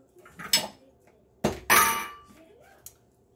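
A microwave-safe ceramic bowl clinks and thunks as it is set down on a hard surface, with a couple of lighter clatters around it.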